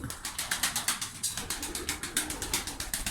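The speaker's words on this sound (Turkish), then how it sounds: "Kuşlar." Performance roller pigeons coo inside their loft, a steady run of soft repeated calls in a close, continuous chorus with no voices.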